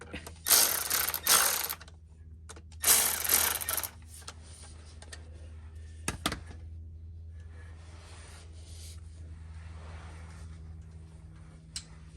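A hand ratchet tightens bolts on a 2009 Lexus IS250 during a P0976 repair, two bursts of loud rapid clicking close up, then a sharp metallic knock and quieter scraping over a steady hum.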